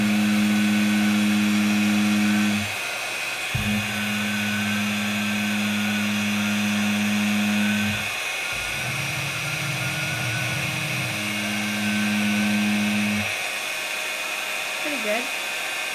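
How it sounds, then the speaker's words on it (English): A handheld heat gun blows hot air onto candle wax in on-and-off bursts, a loud steady whir that stops and restarts several times over about thirteen seconds, with a brief break near the middle. "if my candle's going out, to heat it with my heat gun"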